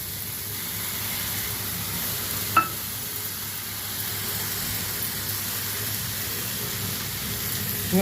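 Cucumber masala curry frying steadily in a pan, a continuous soft sizzle with faint stirring and one brief clink near the middle, no voices.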